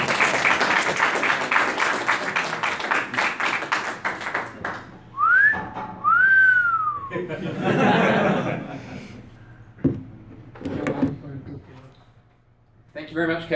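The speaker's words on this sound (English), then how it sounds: "now you can applaud." Audience applause and whistling at a software defined radio meetup, with bursts of clapping, rising whistles and laughter, broken by pauses and a voice speaking in between.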